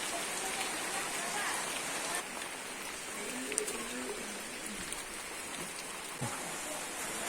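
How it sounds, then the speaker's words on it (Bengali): Heavy rain falls steadily outside on a wet morning after days of downpour, a dense continuous hiss with scattered louder drops close by and no voices. "দেখো বাইরে কত বৃষ্টি হচ্ছে, দেখো দেখতে পাচ্ছ কত বৃষ্টি হচ্ছে।"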